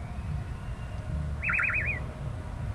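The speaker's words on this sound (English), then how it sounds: "The bird just said something." A bird at a Florida wildlife park gives one brief warbling, trilling call, fairly clear above a steady outdoor crowd murmur.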